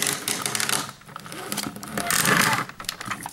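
Power Rangers Turbo Falcon Megazord toy's engine-rev gimmick: a rapid plastic ratcheting and clicking whirr, close and fairly loud, rising in intensity midway.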